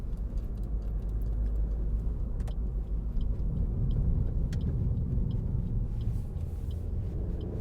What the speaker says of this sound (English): We'll just give it a bit of a blast up this dual carriageway.